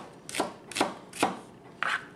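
Knife slicing an onion on a cutting board: four crisp, evenly spaced chops against the board, close and clear with no talking.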